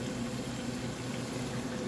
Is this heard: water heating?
yes